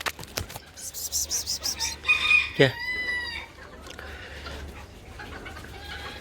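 Haydar Bey, a serama rooster, clucks in quick rhythmic bursts and then lets out a short high crow up close, with a brief word from a person near the start and a softer bird sound trailing after.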